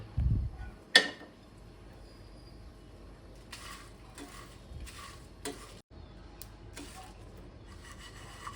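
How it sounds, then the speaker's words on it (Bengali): Quiet dry scraping and rubbing as whole spices, including nutmeg, are stirred in a dry pan, with a sharp knock near the start and intermittent scratchy strokes. "সব আমি একসঙ্গে এটাকে হালকা শুকনো খোলায় নেড়ে গুঁড়ো করে নেব"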